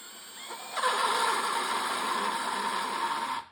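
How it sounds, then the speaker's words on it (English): A drill bit chattering against a metal wheel rim on a 1997 Toyota RAV4, starting with a jolt and running as a steady, harsh, rattling grind held close and loud for about three seconds. "If you don't push on the drill, the bit will chatter and you get these little ridges."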